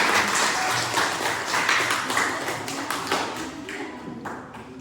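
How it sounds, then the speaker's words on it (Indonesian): Classroom applause at the close of a chemistry lesson on the law of conservation of mass: a few seconds of moderate, quick hand clapping from students that thins out toward the end, with no talking over it. "Oke, tepuk tangan untuk kita semua."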